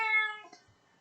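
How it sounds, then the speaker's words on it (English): Siamese cat letting out a single clear, drawn-out meow that trails off, close and fairly quiet, with no talk over it. "I'm sorry if you can hear my cat meowing."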